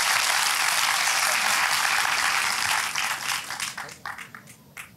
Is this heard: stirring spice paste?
no